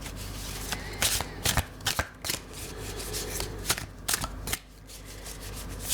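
Darkwood Tarot cards are shuffled by hand, giving close, crisp riffling bursts and soft slides that come in uneven flurries against a quiet room.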